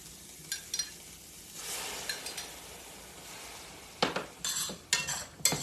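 Garlic and onions cooking in a pan, with a low steady sizzle under clinks and scrapes of a spoon against cookware, sharp metallic taps clustering near the end.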